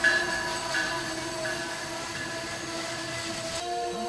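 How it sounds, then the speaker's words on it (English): A southbound train rumbles past at a distance, a steady mechanical drone with faint high metallic tones from the wheels, fairly quiet and continuous. "Oh, there's a southbound train."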